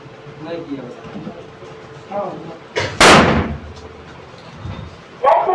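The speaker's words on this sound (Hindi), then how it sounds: "मैंने जैसे ही पैर रखा ये ब्लास्ट कर दिया। इन्होंने पैर रखा तो ब्लास्ट नहीं किया। ये ग्रेनेड बनाया है" A homemade grenade explodes underfoot with a single sharp, loud blast that rings out briefly, with people talking before and after.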